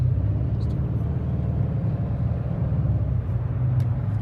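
Deep, steady exhaust rumble of a 2008 Dodge Charger SRT8 echoing in a tunnel, a constant low drone with no speech.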